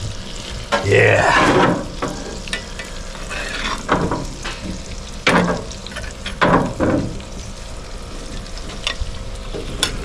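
An Australian Wagyu ribeye sizzles on a high-temperature grill, a loud close fry that surges as the steak is flipped and then settles into a steady crackle with occasional sharp pops, while a voice briefly speaks.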